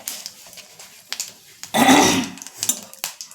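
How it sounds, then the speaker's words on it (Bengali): Whole garam masala, cardamom and a little cumin spluttering in hot oil in a home kitchen: one sharp burst of sizzling crackle near the middle, with scattered small pops and clicks around it, close and fairly loud, no speech. "ওই যে এলাচটা ফুটলো।"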